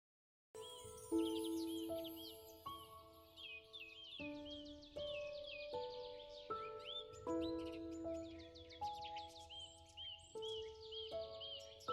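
A mynah bird, known for mimicking sounds and voices, gives a string of clear whistled and warbling calls with varied pitches, close and distinct, with short pauses between phrases.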